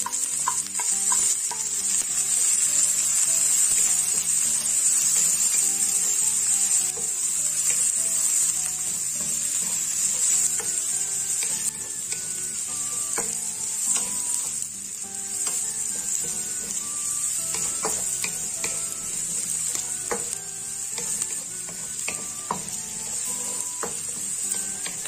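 Onions sizzle loudly in hot oil while being stir-fried for crabs with oyster sauce, a steady close frying hiss with occasional scrapes and clinks of a utensil against the pan.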